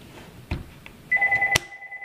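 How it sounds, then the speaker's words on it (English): Telephone ringing indoors, one loud close electronic ring burst after a few soft knocks, stopping abruptly. "Oops, that's the phone."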